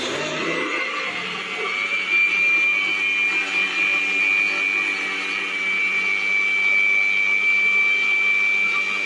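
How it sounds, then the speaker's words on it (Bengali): A mixer grinder blends raw mango with sugar, giving a steady, loud whirring hum that starts up and holds evenly close by. "এখন আমি মিক্সির জারটা চাপা দিয়ে মিক্সিতে এক পাক ঘুরিয়ে নেব"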